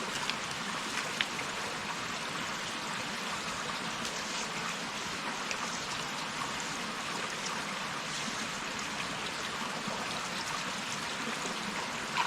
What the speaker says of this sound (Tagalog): May mina na tayong tubig mga utol